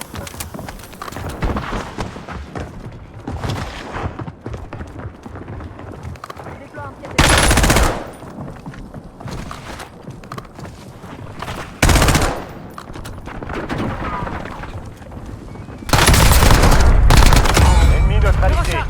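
Automatic FFAR rifle fire in a first-person shooter game, sounding in loud sustained bursts over a busy backdrop of game noise and a chattering in-game voice, with louder sharp volleys breaking out several times.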